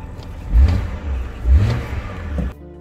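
BMW engine blipped twice during a heel-toe downshift, two quick revving surges rising and falling about a second apart over a steady idle-level hum, close and fairly loud, with no talk.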